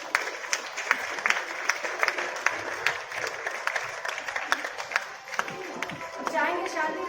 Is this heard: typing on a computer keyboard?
no